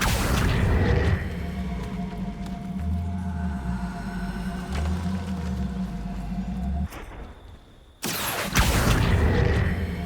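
Confringo fire-blast spells going off in Hogwarts Legacy, heavy booming bursts over rumbling game sound, a brief near-silent gap, then another loud blast at the end; no talking.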